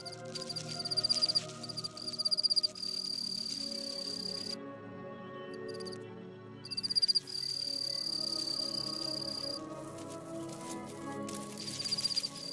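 Male crickets in Hawaii chirping in dense, continuous high trills that pause briefly mid-way, with faint background insects and a few bird notes, no voices.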